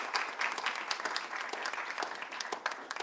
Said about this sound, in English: I think a big round of applause for Matt.